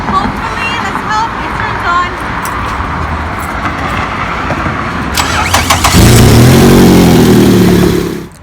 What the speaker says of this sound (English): right now I'm gonna turn on my car and hopefully, let's hope